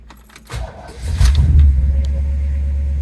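A 1966 Pontiac GTO with a 389 engine starts up indoors in a showroom, a brief cranking and catch followed by a loud, steady deep idle rumble close by, with faint jingling at the start.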